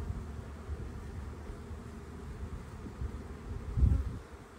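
Low, steady droning buzz of many honeybees at a hive entrance, close by, continuous throughout with a slightly louder swell near the end.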